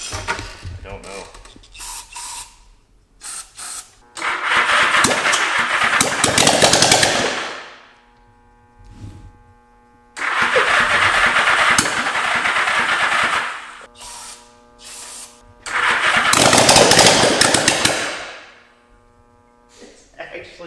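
An old, flood-damaged Honda motorcycle engine that sat for 30 years is cranked and fired, giving three loud bursts of rough, rattling running with short quiet gaps between them. Speech appears faintly in the gaps.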